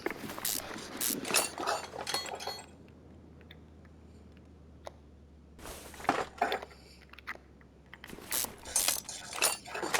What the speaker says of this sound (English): You gotta get in a rhythm with unscrewing stuff and then rusty bolt.